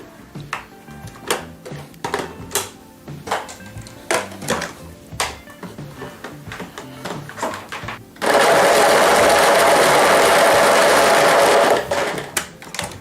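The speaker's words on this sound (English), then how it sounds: "just drop it in your food processor or whatever you're using" A food processor blends pitted dates and other fudge bite ingredients, a loud steady whirring roar running about four seconds near the end, after a stretch of knocks and clatter of things being dropped in.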